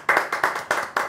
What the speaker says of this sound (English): you people should clap for me